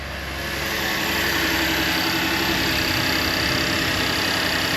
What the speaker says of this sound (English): Car fired up.